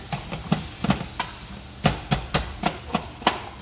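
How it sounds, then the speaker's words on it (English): Food sizzles in a hot pan while a utensil scrapes and tosses it in a steady rhythm of repeated clanks, as chow mein noodles with sauce are stir-fried. "keep stir frying it"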